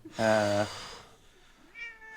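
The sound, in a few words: person imitating a cat meow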